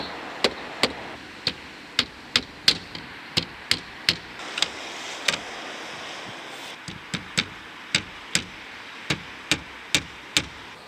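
Sharp hammer taps ring out one after another as slates are fixed onto a roof, in a steady, fairly quick rhythm, loud and close against faint outdoor background, with a brief pause midway.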